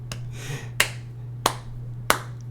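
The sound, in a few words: slow clap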